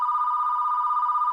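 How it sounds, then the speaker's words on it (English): A telephone rings with a steady electronic tone, held continuously at moderate level and nearby, with no voices over it. "The ringing continued."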